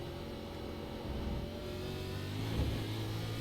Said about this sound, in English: How would you keep going with a smoking engine?